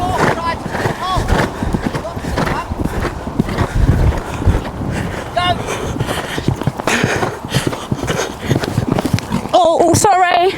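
Horse hoofbeats clop rhythmically through a jump training ride, a steady run of strides toward a pole, with people talking over them and a brief whinny-like sound near the end.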